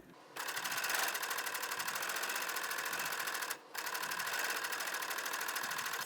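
A sewing machine runs a steady, fast rhythmic stitch while sewing a rolled hem around a fabric circle, close and continuous, with one brief pause midway.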